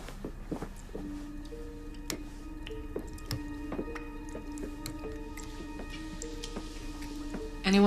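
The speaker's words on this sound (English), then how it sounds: "The faucet's dripping." A bathroom faucet drips steadily, with irregular plinks and ticks of water falling into a basin over a quiet room hum.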